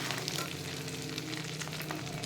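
Pieces of hilsa fish fry in hot oil with a steady, dense sizzle and crackle that stays close and even from start to finish, with no voices over it.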